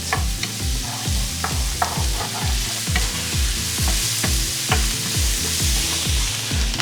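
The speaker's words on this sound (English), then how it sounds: "We're gonna saute those until they soften up a minute" Vegetables for a langoustine fettuccine sauté in a pan under a continuous loud sizzle, with regular rhythmic scraping strokes of a utensil stirring them close by.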